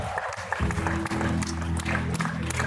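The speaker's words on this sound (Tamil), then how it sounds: "இங்கே உற்சாகமான கரகோஷம்" Enthusiastic crowd applause greets a team captain stepping onto a stage at a live event, a steady wash of clapping over a low hum of background noise.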